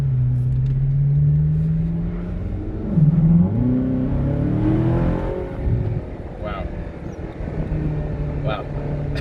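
A Ferrari pulls away and accelerates from inside the cabin, its engine note climbing and dropping through gear changes, with people talking over the steady drone.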